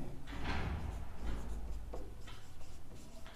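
Chalk or marker writing on a board during a maths lesson, several scratchy strokes in a short uneven rhythm, close and fairly soft, with no talk over it.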